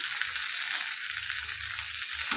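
Green beans frying in a pan at home, a steady close sizzle with soft crackles and occasional stirring, heard alone without talk.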